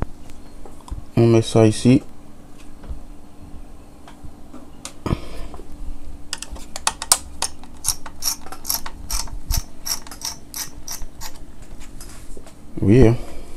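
Screwdriver backing out Phillips screws from a Packard Bell laptop casing, heard as two short bursts of rapid ratcheting clicks near the mic, with someone talking quietly between them.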